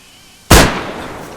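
A single sharp gunshot rings out in the video game DayZ, one loud close blast after a quiet moment, followed by a fading echoing tail.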